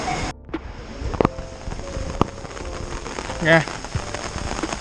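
Light drizzle falls on a Tokyo street, a soft steady patter with occasional louder drops close by, and a brief spoken word near the end.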